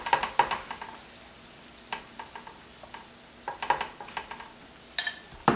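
Half of a vegetable breakfast mixture cooking in a pan, a soft sizzle punctuated by repeated scraping and tapping of a utensil stirring against the pan, close and without speech.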